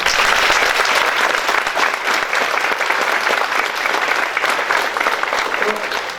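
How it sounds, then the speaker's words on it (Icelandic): Sustained applause from an audience at a school celebration for first and second graders fills the whole stretch, steady and loud, with no pauses. "bæði Hlynur og Kári, kannski ætlum að klappa fyrir þessu fólki líka."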